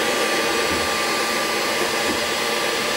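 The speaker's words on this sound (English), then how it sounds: "So I'd rather take more time with a heat gun" Heat gun blowing steadily on the rim of a porcelain bath basin, a continuous loud whooshing hiss with no variation across the short stretch.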